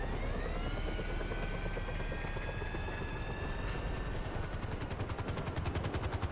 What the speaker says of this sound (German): Ich hoffe, kein Heli landet auf mir.